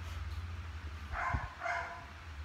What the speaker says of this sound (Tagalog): Umiiyak na yung aso.